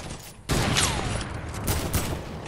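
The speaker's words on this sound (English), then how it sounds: "My gun shooting by itself?" Gun firing on its own in Fortnite, a burst of rapid gunfire erupting after a brief quieter start and continuing steadily to the end.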